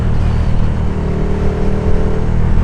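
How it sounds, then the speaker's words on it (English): Motorcycle fitted with a Race Fit stubby slip-on exhaust, a deep, steady engine drone that runs loud and close throughout, with no voices over it. "Race Fit stubby slip-on, which I think just sounds amazing. This bike sounds so good."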